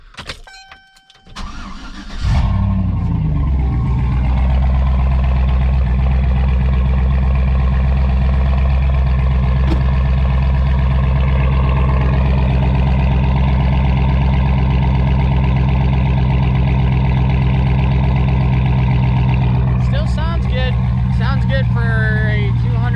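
A 4.8-litre Chevrolet Silverado with 200,000 miles and a Black Widow exhaust cranks briefly, fires up, and settles into a loud, deep, steady idle rumble close by.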